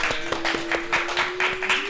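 Applause for a player at a live game presentation, a dense broadband patter of many hands with a steady tone running underneath, continuous for about two seconds.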